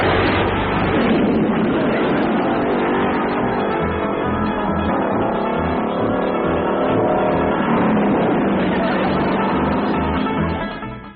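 An old truck in a 1963 sitcom starts and drives away, its engine a loud, steady, rough drone that rises and falls in revs for about ten seconds before cutting off.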